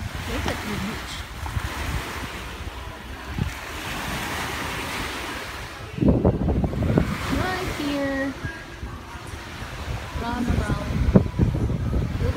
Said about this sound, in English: Look at the ocean. The swimming pool is next to the ocean.